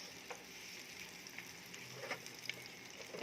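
Garlic fries quietly in a little cooking oil, a soft continuous sizzle with faint crackles and pops.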